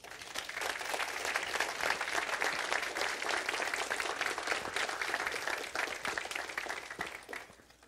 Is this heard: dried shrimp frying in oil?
no